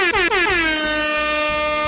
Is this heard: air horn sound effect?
yes